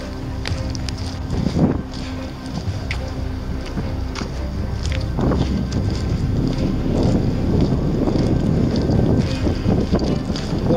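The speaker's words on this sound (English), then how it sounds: "Lots of strange noises tonight, but it is a windy night." Steady wind roars and buffets the microphone, with occasional gusts and rustling swells, continuous and fairly loud with no voices.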